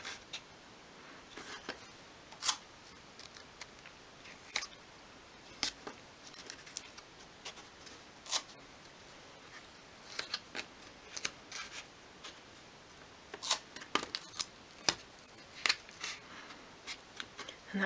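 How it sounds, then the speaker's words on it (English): Scissors cut thin strips for a 1/12th scale dolls house ladder shelf, making quiet, sparse snips and light crisp clicks scattered irregularly over a faint room background, with no talking. "I'll just cut some strips here to hold all the legs into place"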